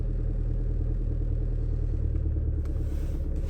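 A car engine runs steadily after a cold start in deep snow, a low continuous rumble close by and alone throughout.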